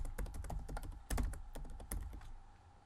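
Fingers tap quickly on a computer keyboard, a dense run of close, crisp key clicks with a few heavier strokes, and no voice.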